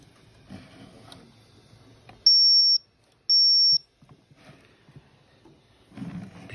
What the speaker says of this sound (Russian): Пищит противно, но работает